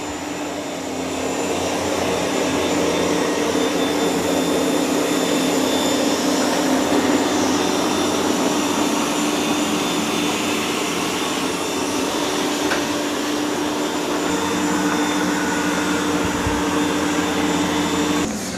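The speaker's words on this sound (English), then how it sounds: "so here comes the ECOVACS with its mopping" Steady, loud whirring drone of an ECOVACS DEEBOT X2 Omni robot vacuum running its mopping cycle indoors, holding an even level throughout with no talking.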